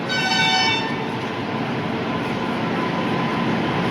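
A train pulling into Mauliya station sounds its horn in a sustained, loud blast that fades after about a second, leaving a steady rumble of the moving train and station noise.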